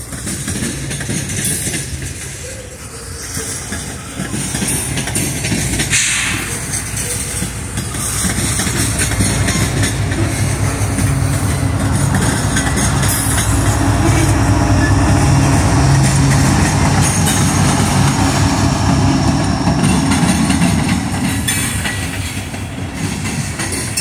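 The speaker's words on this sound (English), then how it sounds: "look at the locomotive in the middle of the train" A long CSX freight train with a remotely controlled locomotive mid-consist rolls past close by. Its heavy, continuous rumble and clattering wheels stay loud throughout.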